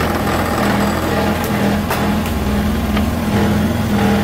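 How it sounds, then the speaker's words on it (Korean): A scooter with its CVT drivetrain freshly serviced with a new belt, sliders, variator and clutch runs close by, a steady buzzing engine with the drive turning. "자, 시동 한번 걸어보십시오."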